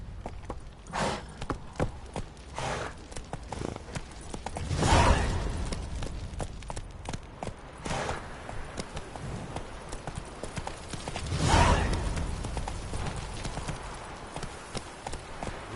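Roach, the horse in The Witcher 3, clip-clops steadily at a gallop through the whole stretch, hoofbeats close and even, with two heavier swelling surges along the way and no talking.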